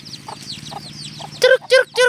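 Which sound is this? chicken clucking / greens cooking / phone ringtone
chicken clucking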